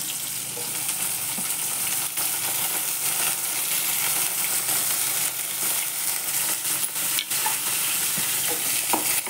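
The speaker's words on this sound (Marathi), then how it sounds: "परतून घेते." Onion and peas being sautéed in a pan, a continuous close sizzle and crackle of frying with occasional scrapes and stirs, steady throughout with no talking.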